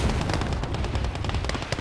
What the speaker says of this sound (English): But the flak cannon does an amazing job here.